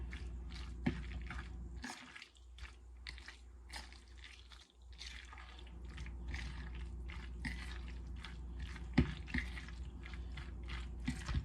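Tuna macaroni salad with mayonnaise being stirred by hand in a bowl at home, giving soft, wet squishing and dripping sounds in a steady rhythm, moderately quiet with no talk.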